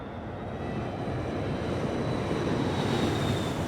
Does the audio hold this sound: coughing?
no